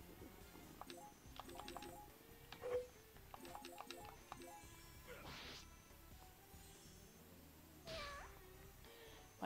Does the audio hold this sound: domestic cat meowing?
yes